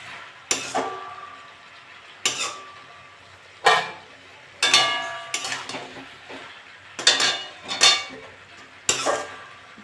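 Malabar spinach being stirred in a pan, with a spoon knocking and scraping against the metal in about seven distinct bursts spread across the stretch, fairly close, with no voices.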